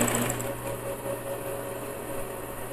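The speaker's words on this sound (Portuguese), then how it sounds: "Retrocesso no início e agora é só costurar em volta." A sewing machine runs steadily, stitching bias binding around a neckline, with a continuous close motor hum and rapid needle whir holding at one even pace.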